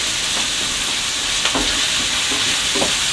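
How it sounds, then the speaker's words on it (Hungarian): Onion frying lightly in a pan gives a steady, close sizzle and hiss, broken by a few soft stirring scrapes and clicks. No one speaks. "Tehát minimálisan pirítom meg a hagymát."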